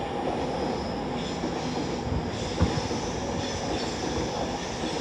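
Passenger train hauled by locomotive 39132 City of Birmingham passing at Primrose Hill, London, bound for Glasgow Central: a loud, continuous rumble and rush of wheels on rail with faint clacks and brief squeals, close by and without voices.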